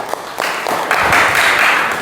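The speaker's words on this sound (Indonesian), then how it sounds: "Bisa diberi tepuk tangan." A university microteaching classroom breaks into applause: a few scattered claps at first, then a loud, steady wash of clapping from the room.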